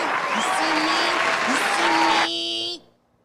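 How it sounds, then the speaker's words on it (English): Long, dense applause from an audience on a podcast broadcast, steady and full before it abruptly thins and cuts off into silence, with a tonal buzz layered in near the end. "Did we finally cut that long ass applause?"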